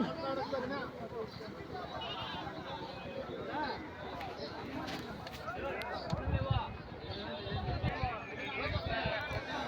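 Goats bleat now and then amid a busy crowd of chattering voices and movement at a goat market, fairly close and mixed into steady background noise.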